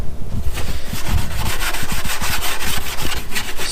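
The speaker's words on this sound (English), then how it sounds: "Scuff all the edges." A red Scotch-Brite pad scuffs the edges of a plastic fake Mustang hood scoop before painting, making rapid, rhythmic back-and-forth rubbing strokes, close and steady throughout.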